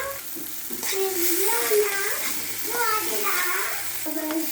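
Tomato and ginger-garlic paste fry in a pan for semiya upma, a continuous soft sizzle and hiss heard close up while someone talks over it throughout.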